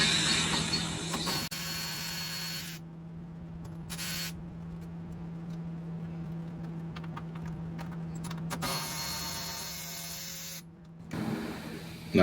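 Ratchet clicks and metallic mechanism sounds while removing 10mm radiator bolts on a Jeep Wrangler JK 3.6L, close and fairly quiet over a steady low hum, with bursts of clicking and brief pauses.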